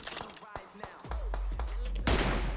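Bursts of close gunfire in the mobile battle-royale game PUBG Mobile, sharp repeated shots followed by a louder blast near the end, with a player talking throughout.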